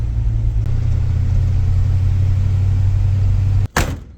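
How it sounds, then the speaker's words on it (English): A classic truck's engine idles with a smooth, steady low rumble close by, repaired after overheating problems. A door thumps shut near the end. "This is one smooth running truck"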